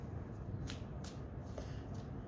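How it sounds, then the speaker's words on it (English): Tarot cards being shuffled by hand, with a few crisp riffling snaps at irregular intervals over a soft steady background, close and fairly quiet, no one speaking. "I feel like I'm gonna shuffle like this, but a little bit more."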